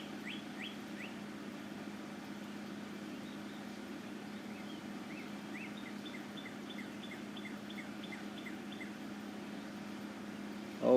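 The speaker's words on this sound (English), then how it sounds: "I don't know if y'all can hear the birds or not" Birds chirp and trill softly in the distance at sunrise, short repeated phrases over a steady low hum, with no talking.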